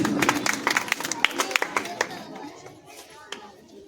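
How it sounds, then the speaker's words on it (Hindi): A small audience claps in congratulation of students who passed the National Means-cum-Merit Scholarship exam at a Kushinagar gathering, a burst of sharp, close claps that thins out and fades after about two seconds. "जोरदार तालियों से आप भी उनको बधाई दें"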